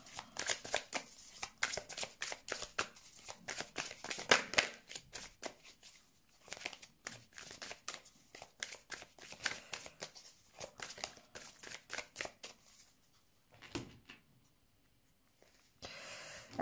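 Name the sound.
shuffling tarot cards for a card draw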